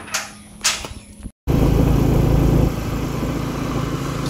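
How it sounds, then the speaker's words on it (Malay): A motorcycle makes a few revving bursts, then after a short gap its engine runs loud and steady, a continuous low drone as the ride gets under way. "Kita naik motor guys."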